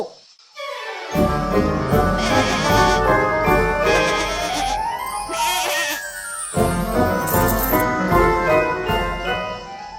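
A magical goat in an animated Hindi children's story bleats loudly and nearby, a few drawn-out quavering cries over jingling, tinkly music.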